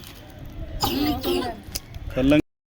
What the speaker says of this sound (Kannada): ನನ್ನ ಮಗಳು ಕೆಮ್ಮು ಸ್ಟಾರ್ಟ್ ಆಗ್ಬಿಡ್ತು